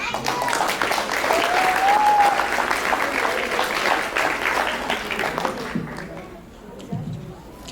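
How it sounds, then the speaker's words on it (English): Sustained applause from an audience at an International Yoga Day gathering, steady clapping filling most of the stretch with a few voices mixed in, then thinning out toward the end. "Can we give another round of applause to Padmajaji"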